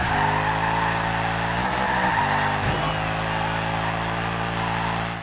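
A Mercedes-Benz C63 AMG Black Series with a 6.3-liter V8 in the Forza Horizon 2 racing game drones loudly and steadily, its pitch dipping and recovering briefly midway as the tires squeal through a corner, no one speaking.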